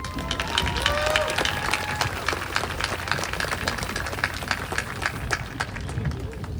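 Audience clapping at a high school class of 2024 graduation ceremony: steady, moderately loud applause from a crowd throughout, with scattered voices mixed in.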